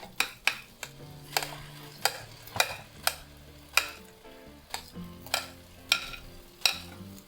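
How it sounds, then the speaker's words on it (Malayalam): Onion and tomato paste sauté in a pan for butter chicken, with a soft sizzle under repeated close scraping and tapping strokes of a spoon against the pan. "അത് നല്ലപോലെ ഒന്ന് വഴറ്റിയെടുക്കണം."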